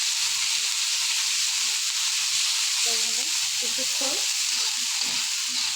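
Shrimp and fish fry in a pan after water is added, throwing off a loud, dense, continuous hiss and sizzle while being stirred, with a voice speaking briefly underneath.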